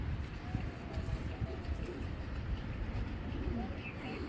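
Racer pigeons coo softly in a loft, low repeated burbling calls under quiet background noise, with someone speaking nearby.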